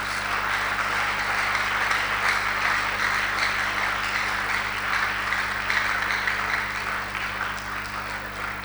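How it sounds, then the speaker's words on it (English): Steady applause from the audience at an Old Boys Association orientation for newly admitted Accra Academy students, a dense, even wash of clapping that keeps going at the same level for the whole stretch and eases only slightly near the end, with a low hum beneath. "Give him a big round of applause."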